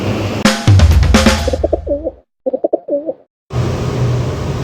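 Pigeons coo in a rhythmic series of soft, throaty phrases heard alone between bursts of louder background noise, with a brief silence before the outdoor din returns.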